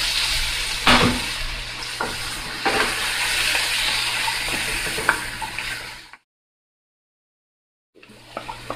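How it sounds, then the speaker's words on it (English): Fresh halved mushrooms hit a hot oiled frying pan with a steady, close hiss of sizzling and a few utensil knocks, cutting to silence for about two seconds before the sizzle briefly returns. "I'm just going to go ahead and add some fresh mushrooms"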